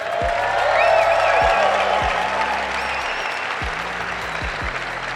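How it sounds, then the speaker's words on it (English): Conference audience applauding at a motivational talk, a dense loud burst of clapping that swells then holds steady, with low thumps underneath. "Clap it the fuck up."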